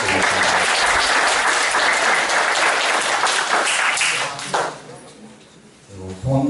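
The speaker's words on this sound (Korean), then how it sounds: "박수 부탁드리겠습니다." Audience applause at a Korean neighborhood volunteer patrol ceremony welcoming guests, a dense burst of clapping that holds steady for several seconds before thinning out and fading, with a brief swell at the end.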